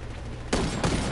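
Gunfire in a PS4 shooter video game: two loud broadband blasts about a third of a second apart, each hanging on briefly, following a quieter stretch of low rumble.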